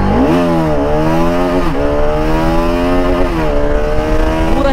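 A sport motorcycle engine, a Bajaj Pulsar RS200, roars loudly and revs up through rising pitch sweeps while accelerating, dropping briefly between gear shifts before climbing again, close and continuous.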